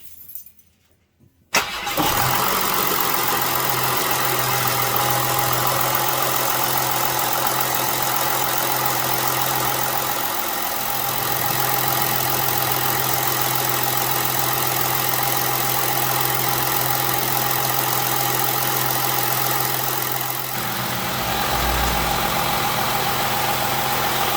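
VW Amarok V6 engine cranks and catches after a short quiet moment, then settles into a steady, even idle that holds close and loud to the end with a slight dip in tone near the finish.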